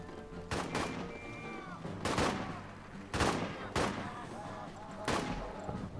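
Artillery fire in a trench warfare video game, heavy booming blasts landing in a row about every second and a half, each one a loud broadband crash over steady rumbling battle noise.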